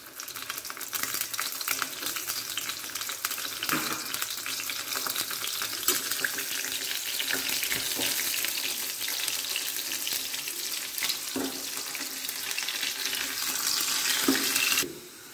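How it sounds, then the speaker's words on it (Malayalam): Garlic fries in hot coconut oil in a pan, a continuous close sizzle with crackling pops that builds slightly toward the end before cutting off, with no talk. "ആദ്യം വെളിച്ചെണ്ണ ഒഴിച്ച് ചൂടായി വരുന്നുണ്ട്. അതിലേക്ക് നമുക്ക് വെളുത്തുള്ളി ഇട്ട് കൊടുക്കാം."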